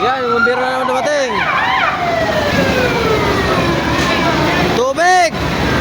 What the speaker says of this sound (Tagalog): yung bumbero na naman dumating